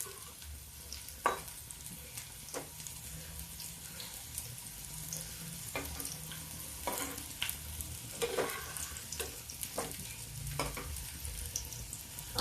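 Pumpkin pakoras made with rice flour shallow-fry in oil, giving a continuous crackling sizzle with scattered spatula scrapes and taps as they are turned, moderately close and without talk.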